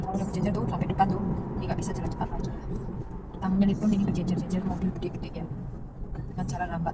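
Big, heavily loaded trucks crawl slowly along a road in a long line, giving a continuous low engine rumble with passing traffic noise. A person talks close by over the sound throughout.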